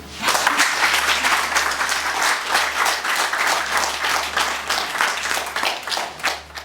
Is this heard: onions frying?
no